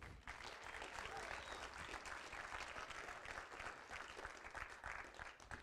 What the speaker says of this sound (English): let's keep that round of applause going for all of the startups tonight